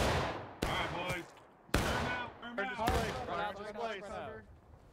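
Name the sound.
musket gunfire in video game War of Rights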